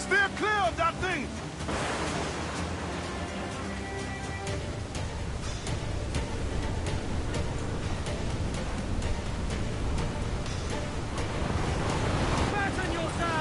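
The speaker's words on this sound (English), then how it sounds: "Water spout!" A storm at sea in Assassin's Creed 4 Black Flag, with a steady roar of ocean waves, wind and a waterspout rushing around a sailing ship, while voices shout over the din.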